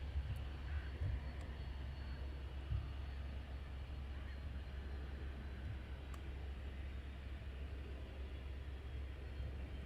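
An airplane taxis out at Luton Airport on a foggy day, its engine a steady, distant low drone that holds evenly throughout.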